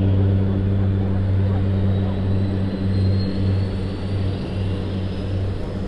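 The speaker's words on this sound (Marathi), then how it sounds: "एक विमान आता आकाशात उड्डाण घेणार आहे" A seaplane's propeller engine taking off from the water of Lake Union in Seattle: a loud, steady droning hum that holds throughout at close range with little change.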